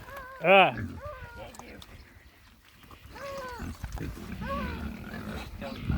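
Pigs on a farm grunt and squeal at feeding time, with one sharp loud squeal early followed by scattered grunts, while people talk and call nearby.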